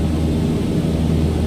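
Airplane engine in Microsoft Flight Simulator, a steady low droning hum with broadband hiss, constant and moderately loud throughout the short stretch, with no talking.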